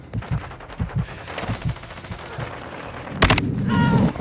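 Rapid gunfire on the small Shipment map in a Call of Duty: Modern Warfare II Hardpoint multiplayer match: bursts of automatic shots, then a loud blast and denser firing near the end, with no talk.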